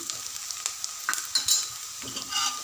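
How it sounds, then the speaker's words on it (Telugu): Onion and garlic fry in a pan as turmeric is stirred in, a soft continuous sizzle broken by several close spoon scrapes and taps on the pan, without talking. "ఇలా ఉల్లిపాయ ఎల్లిపాయ మంచిగా ఫ్రై అయినాక ఒక పావు టీ స్పూన్ పసుపు వేసి మంచిగా కలుపుకొని"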